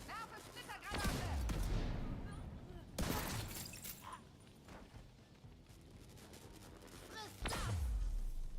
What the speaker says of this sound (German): Werfe Splittergranate.